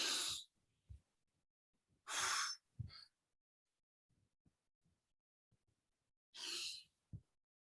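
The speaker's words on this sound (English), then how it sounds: "And then we take 2 deep breaths," Two deep, audible breaths taken during an EFT tapping routine, each a long airy inhale followed by a shorter exhale, close and clear with quiet pauses between.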